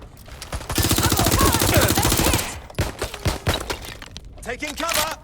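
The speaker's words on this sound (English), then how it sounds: "Suspect is shooting!" Rapid automatic gunfire in the video game Watch Dogs: Legion, a dense burst followed by scattered shots, mixed with shouted voices and a radio-style voice near the end.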